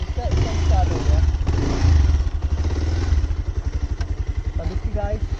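A Bajaj Pulsar 220 motorcycle engine idles after starting with a rapid, pulsing low thump, close by, while people talk over it.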